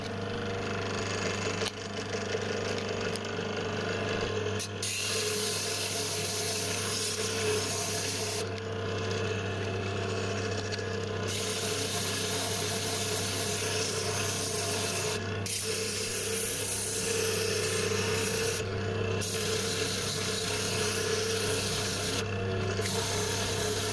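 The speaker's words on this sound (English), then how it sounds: "I'll be using a sanding block and some 80 grit paper" Continuous scratchy rasping of 80 grit sandpaper on a sanding block rubbed back and forth over walnut wood, close and steady, with a few brief pauses along the way.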